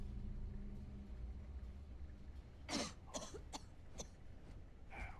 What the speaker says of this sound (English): Of course you have to stop coughing at that